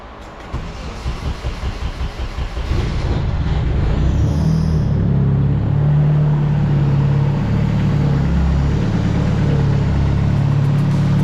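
A turbocharged BMW E36 convertible engine cranks for a couple of seconds with rhythmic chugging, then fires up and settles into a loud, steady idle.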